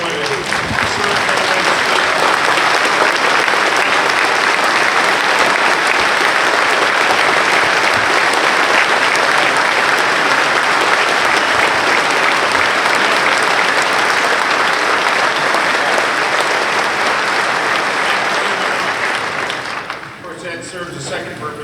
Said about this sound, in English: give a hand of applause to all our men and women